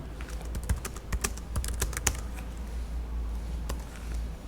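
Rapid keystrokes on a computer keyboard while entering Java code, a close, steady run of clicks with small pauses, no voices.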